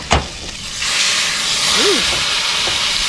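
Hot steam hisses from a ribeye steak cooking over a campfire on a BLM campsite along the Blackfoot River, a loud, steady broadband sizzle that starts after a brief knock and continues without a break.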